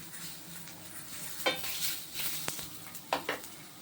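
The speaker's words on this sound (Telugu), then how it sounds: "ఇప్పుడు అదే ప్యాన్లో మనం తీసుకున్న టమాటాని మొదలు భాగం తీసేసి 4 పీసెస్గా చేసుకొని వేసాను." Quartered tomato pieces frying in oil in a pan give a soft continuous sizzle, with a few sharp clinks and scrapes of a spoon stirring against the pan, close by and without talk.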